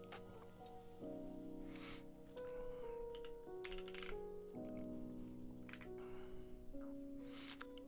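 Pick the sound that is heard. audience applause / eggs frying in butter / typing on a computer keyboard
typing on a computer keyboard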